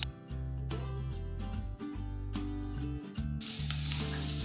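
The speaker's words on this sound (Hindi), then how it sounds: "लो फ्लेम पर 1 मिनट तक मसालों को पका लेंगे" Spices sizzle in a pan over a low flame, a soft steady hiss partly buried under louder background music that runs throughout.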